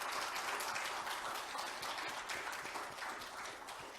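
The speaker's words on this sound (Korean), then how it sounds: "여러분 박수 한번 쳐주시기 바랍니다" Applause from an audience at an award ceremony, a steady dense wash of many hands clapping, fairly faint and distant, holding evenly throughout with no voices.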